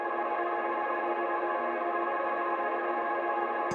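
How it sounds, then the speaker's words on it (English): A single sustained synthetic pad note, a sample with reverb added, rings steadily with a washed, reverberant tail, smooth and continuous without breaks. "in order to get rid of that sort of stuttering sound, I'm going to add the reverb"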